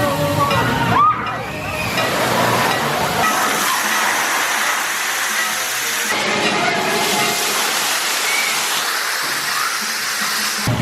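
Large tipping bucket at a theme park water play area in Florida dumps its load, a loud broad rushing splash and slosh that fills the scene, with people talking around it.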